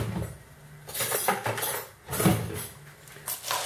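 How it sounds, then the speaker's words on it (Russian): Dry pasta is poured into hot oil in a pan and stirred while frying, producing clattering rattles and scraping with metallic clinks in uneven close bursts for making pasta with beans. "И после этого высыпаем в масло макароны. Так как бы их обжариваем."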